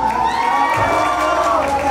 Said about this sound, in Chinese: 这个时候，我建议大家来一个尖叫声，好不好？